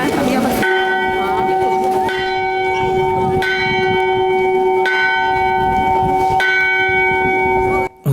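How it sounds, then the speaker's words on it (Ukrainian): A newly consecrated church bell at a village church in Ukraine rings loudly and close, struck about every one and a half seconds with a long humming resonance between strokes and faint voices in the background. "церковний дзвін під назвою Воїнів миру було відкрито на території Назавизівської церкви"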